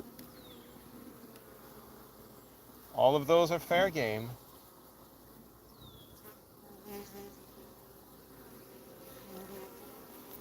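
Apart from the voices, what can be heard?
buzzing of many honey bees at beehive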